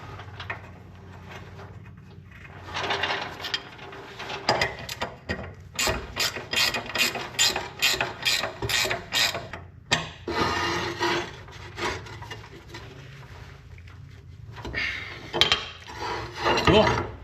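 Ratchet wrench loosening bolts on a large riding mower, quick bursts of close, sharp clicking, some rapid and some slower, broken by short pauses.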